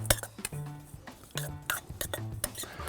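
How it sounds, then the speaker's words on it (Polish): Bean salad filling being mixed with pepper and sea salt, with a spoon clinking and scraping against a bowl in short irregular bursts, close and fairly quiet, with no talking. "Odrobina pieprzu, soli morskiej i wszystko dokładnie wymieszam."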